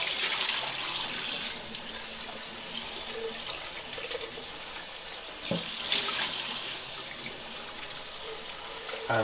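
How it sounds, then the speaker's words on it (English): Dirty water laced with milk and salt gets tipped from a Tineco iFloor One S3 cordless floor cleaner's tank down a sink, splashing and gurgling in uneven pours with a few brief surges and pauses. "So we'll just tip that down the sink."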